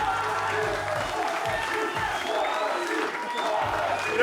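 Audience applause and crowd noise at an event celebrating a relaunch, steady clapping under a speaking voice, with some cheering mixed in.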